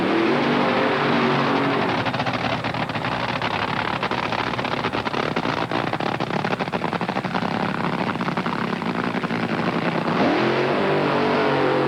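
A 1997 Team Winston top fuel dragster, driven by Gary Scelzi, blasts with a dense, thunderous engine roar that fills the whole stretch, loud and continuous for about ten seconds before easing off at the end.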